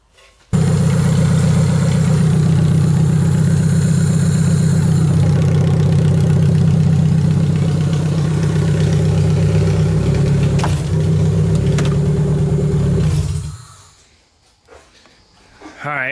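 Car engine idling through an Archibald header, a loud, close, steady rumbling idle that runs for about thirteen seconds before cutting off abruptly into near silence.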